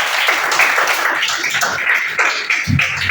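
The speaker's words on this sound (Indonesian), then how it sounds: "terima kasih untuk Ita, tepuk tangan." A classroom of students gives a short round of applause, brisk, uneven clapping from many hands close by that tapers toward the end.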